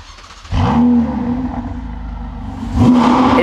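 A Lotus car engine revs close by as it drives into a garage, a steady motor drone with a rising surge near the end.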